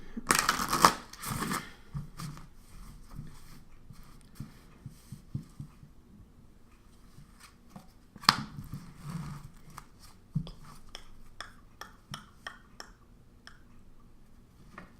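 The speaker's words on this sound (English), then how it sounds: "Let me shuffle again." Angel therapy oracle cards being shuffled in quick riffling bursts, with a sharp snap near the start and scattered soft clicks and taps afterward, close and fairly quiet.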